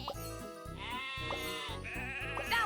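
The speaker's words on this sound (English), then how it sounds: "Sheep have wandered onto the tracks." Cartoon sheep in a Thomas and Friends video game bleat several times in quick succession, clear and close over a bouncy game music background.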